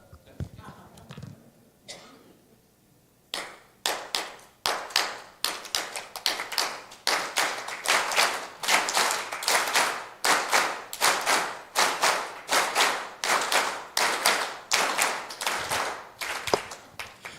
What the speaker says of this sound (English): it's tradition of Bolivia to accompany the musicians with applause